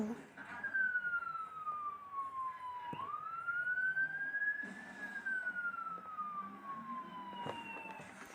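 A fire engine's wailing siren rises and falls slowly, sweeping up and down in pitch, with the vehicle rumbling underneath and a voice speaking briefly.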